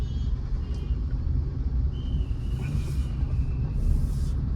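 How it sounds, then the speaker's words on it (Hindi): Heavy rush-hour road traffic in Bengaluru: a dense, continuous rumble of engines and tyres close by, with a brief high squeal and passing vehicle swells. "देखो कितना ज़्यादा ट्रैफिक रहता है बैंगलोर में"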